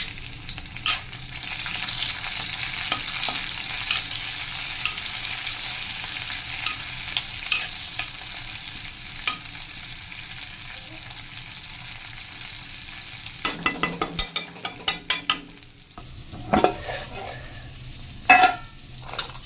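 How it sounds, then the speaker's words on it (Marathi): Tomatoes fry in a little oil, giving a steady sizzle with occasional utensil scrapes throughout, then a quick run of sharp clinks and taps near the end, heard close up without talk. "त्यानंतर तिथे टमाटर टाकून देते."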